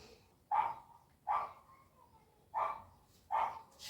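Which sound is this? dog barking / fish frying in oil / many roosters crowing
dog barking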